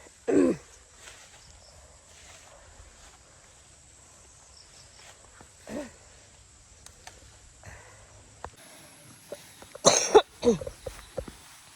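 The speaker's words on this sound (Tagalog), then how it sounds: "Grabe yung ubo." A few scattered coughs, faint to moderate, break a quiet background with soft insect-like hiss; a harsher cluster of coughs comes near the end.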